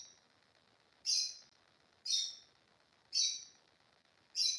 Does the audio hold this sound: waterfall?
no